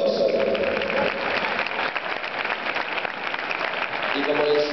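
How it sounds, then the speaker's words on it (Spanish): Applause from the crowd at a judo federation festival in Oviedo fills the hall, steady and dense throughout, with some voices and tonal sound mixed in near the start and end. "aplauso para ellos"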